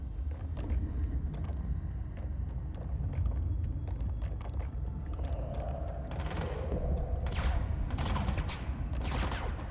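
Enemies fire at the player in the video game Control: a steady low rumble of combat, then sharp, loud bursts of gunfire cluster in the second half, several rapid shots overlapping.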